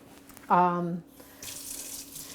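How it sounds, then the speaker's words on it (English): A brief voiced sound cuts in, then a kitchen faucet runs steadily, water splashing into a bowl at a sink for soaking leeks. "I'm going to step back to the sink and actually fill this bowl with water"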